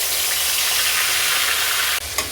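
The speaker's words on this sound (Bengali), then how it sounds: "এবার এই তেলেতে দিয়ে দেবো তেজপাতা তিনটে ফোড়ন দিয়ে দেবো বেটে রাখা পেঁয়াজটা" Bay leaves and ground onion paste fry loudly in hot oil, giving a steady, dense sizzle that sounds close. Near the end there is a brief drop and a small clink.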